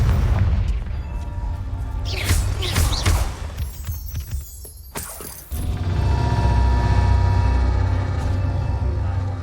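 Confringo fire spell blasts in Hogwarts Legacy, a loud booming explosion with crackling bursts, followed by a steady rumbling roar of game ambience.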